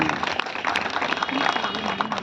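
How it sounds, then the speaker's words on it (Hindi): Audience at a Bharatiya Janata Party political rally in Bazpur, Uttarakhand, breaking into dense, sustained applause that holds steady at a fairly loud level through the short stretch, with crowd noise mixed in. "एक बार इनके लिए जोरदार ताली बजा दीजिए।"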